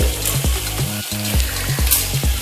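Crumbled paneer stirred into vegetables frying in a pan for paneer bhurji, a loud steady sizzle with repeated scraping strokes of the spoon against the pan, close up.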